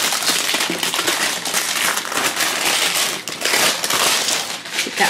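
Loud, continuous crinkling and crackling of plastic wrapping being pulled and torn off an LOL Surprise dollhouse furniture set, close up and busy for several seconds with no speech.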